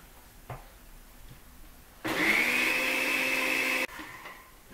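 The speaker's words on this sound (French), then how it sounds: "Je vais utiliser aujourd'hui mon blender." A kitchen blender whirs loudly for about two seconds while blending oil and egg yolk into a yellow sauce for okra, starting abruptly and cutting off, with quiet room sounds before and after.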